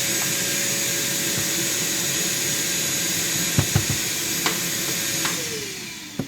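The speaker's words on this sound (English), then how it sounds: "you can see a little Craftsman shop vac." Small Craftsman shop vac running steadily nearby, a continuous broadband whooshing drone, with a few faint clicks and knocks of debris over the final seconds as the motor starts to wind down.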